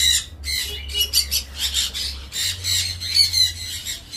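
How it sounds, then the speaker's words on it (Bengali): A sun conure parrot gives repeated harsh, shrill squawks in quick bursts, loud and close, with a low hum beneath. "সানকুনু"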